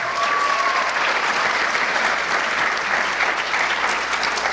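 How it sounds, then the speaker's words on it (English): An audience applauds a dance show, many hands clapping in a dense, even wash that holds steady from start to finish. "clap for them"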